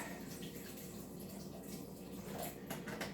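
Water poured from a plastic orange juice bottle into a large smoothie bowl, a steady close splashing trickle lasting throughout, with no talking.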